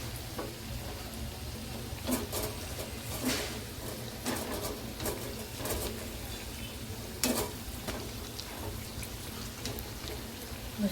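Potato vada filling sizzling steadily in hot oil, with scraping stir strokes and light crackling pops recurring through the frying, close and continuous with no talk.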